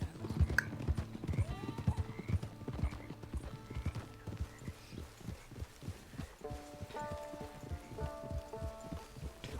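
Horse hooves clip-clop steadily in Red Dead Redemption 2, a rhythmic run of close hoofbeats with an occasional whinny and faint ambient game sound behind.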